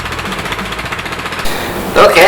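A Predator 420cc go-kart engine idling during break-in, a rapid loud chugging pulse heard up close, with a voice breaking in near the end.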